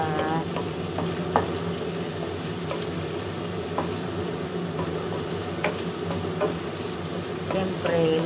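Onion sautéing in a pan alongside garlic, a steady broadband sizzle with scattered sharp scrapes and clinks of stirring throughout, close and continuous with no talk.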